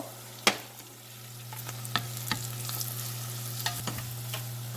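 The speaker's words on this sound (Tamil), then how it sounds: "நல்லா வதங்க விடுவோம்" A garlic curry masala sautés in a pan with a low, crackly sizzle. Sharp spoon taps and scrapes break in now and then, and a steady low hum runs underneath.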